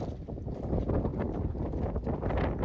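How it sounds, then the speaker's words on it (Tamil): Strong wind gusting across an open hilltop at Panja Pandavar Malai near Arcot, a steady rushing buffet on the microphone, loud and continuous with no voices. "காற்று பார்த்திங்கன்னா செம்மையாக அடிக்குது"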